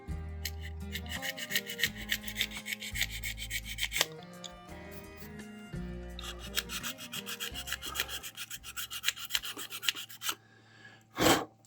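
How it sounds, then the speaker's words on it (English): Sanding on a model truck, a rhythmic close rasping rub in repeated strokes with short pauses between passes, ending in a brief louder knock. "So a little bit of sanding."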